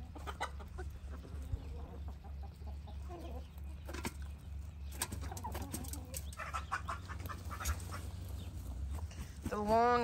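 Royal Palm turkeys squabbling in their pen, scattered clucks and squawks over a low background hum, with a person talking now and then.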